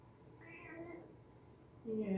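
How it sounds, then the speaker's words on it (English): A cat meows during a home yoga session, a drawn-out mid-pitched cry followed by the start of another call near the end, with faint background room noise. "Come here, Chakra. Show them cat."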